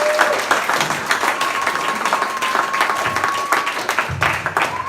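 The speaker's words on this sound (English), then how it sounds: "warm round of applause." Warm applause from an audience welcoming a speaker onstage at a birthday event, steady dense clapping over about five seconds with a faint tonal whine running beneath.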